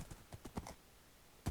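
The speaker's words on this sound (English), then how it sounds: "this is definitely my new horse" Horse hooves clip-clopping in the Minecraft video game, a rapid run of light, fairly faint hoof taps spaced unevenly, ending with one louder thump, with no talking over them.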